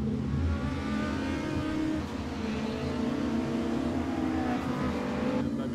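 Race cars driven in a sim racing game, a continuous high engine whine with pitch sweeps rising and falling through gear changes, several cars layered at a steady loud level with no talk.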